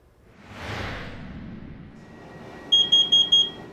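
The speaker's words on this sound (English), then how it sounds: "These 4 beeps mean it's time to get outside immediately." After a rushing whoosh, a carbon monoxide detector alarm sounds four sharp, loud high-pitched beeps in quick even succession, a temporal four-beep pattern.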